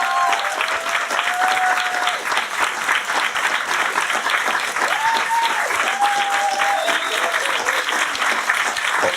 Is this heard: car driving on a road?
no